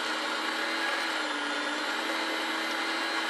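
A Sunbeam MixMaster FPSBSM2103 stand mixer runs at speed 5, light mixing, on batter, giving a steady, loud motor whir that holds constant without pauses or talk.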